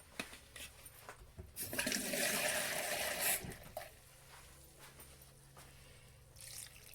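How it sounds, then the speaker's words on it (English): Water poured into a pot of aubergine biryani, a short gushing splash of about two seconds, then quiet drips and faint kitchen sounds. "So I need to add a little bit of water to that."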